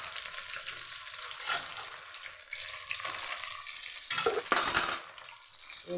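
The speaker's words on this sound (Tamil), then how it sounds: "பூண்டு ஒன்று ரெண்டாக தட்டினது போட்டுக்கலாம் காஞ்ச மிளகா போட்டுக்கலாம் பச்சை மிளகா போட்டுக்கலாம்" Crushed garlic with dried and green chillies frying for tamarind curry makes a continuous sizzle broken by stirring scrapes and a brief louder burst near the end.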